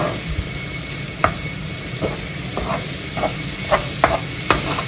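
Ground pork or beef dropped into oil with fried garlic, sizzling steadily and close, with a series of sharp spatula clacks and scrapes against the pan as it is stirred.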